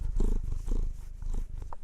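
A domestic cat purring close to the microphone, a steady low rumbling purr with a rhythmic pulse of breaths in and out across the whole short clip.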